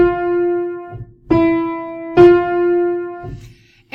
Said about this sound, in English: Half steps are the smallest distance between two notes on a standard keyboard.